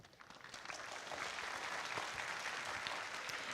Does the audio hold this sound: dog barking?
no